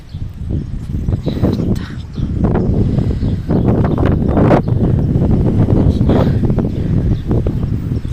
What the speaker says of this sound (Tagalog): Sobrang hangin lang